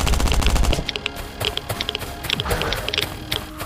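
An enemy player in a survival shooter game fires bullets in rapid automatic bursts. The crackling shots come steadily and fairly close, after a heavy low thump at the start.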